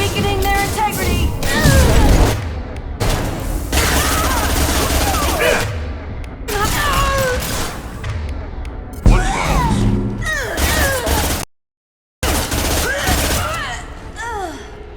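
Rapid bursts of automatic gunfire and heavy weapon shots in the sci-fi shooter Mass Effect 2, loud and dense, with brief pauses and a sudden silent gap, mixed with combat effects and occasional voices.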